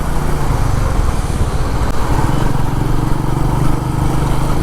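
A Royal Enfield Meteor 350 motorcycle's BS6 engine drones steadily and loudly at close range throughout, a continuous low rumble with wind noise while riding.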